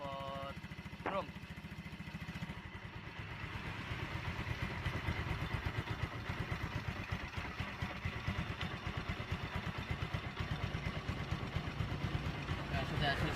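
A motorcycle engine with a chrome exhaust, recently fitted with a new piston kit, idles steadily and close, its rapid even pulsing running throughout after a brief clatter at the start.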